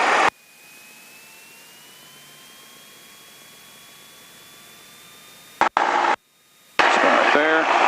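Steady drone of a Cessna 172 engine held at raised throttle around 1700 RPM in the cabin, a loud continuous hum with slowly rising tones, broken near the end by brief radio crackle and dropouts.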